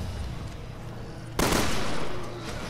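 Video game gunfire while aiming for headshots: a sudden burst of loud rapid shots cuts in midway over a low game background and continues steadily before easing off.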